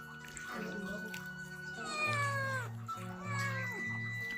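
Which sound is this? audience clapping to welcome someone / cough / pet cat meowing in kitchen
pet cat meowing in kitchen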